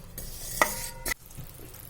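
Jaggery melts with ghee in a pan on medium heat for til ladoo, soft sizzling underneath two sharp spoon scrapes and clinks against the pan, close and clear.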